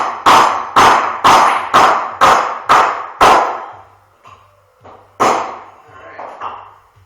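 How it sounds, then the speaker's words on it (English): Seven sharp metallic taps of a pipe driving a Truvativ GIGA pipe crank bearing, struck in a steady even rhythm, loud and close, followed by a pause and a couple of softer knocks. "With some light pressure, we're going to tap down."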